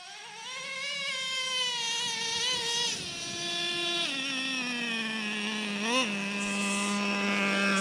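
A Traxxas Revo 3.3 nitro RC truck engine whines loudly and steadily; its pitch climbs, then drops sharply at several gear shifts before climbing again, with no voices.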